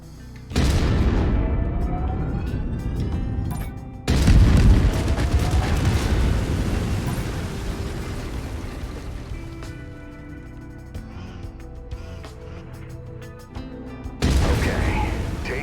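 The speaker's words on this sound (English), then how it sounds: "I've mapped the autocannon to Weapon Group 1. You're free to fire whenever you're ready." An autocannon in a mech game fires in bursts, each a heavy, loud blast with a booming tail, with a sharp burst near the start, a longer stretch that slowly decays, and another burst near the end.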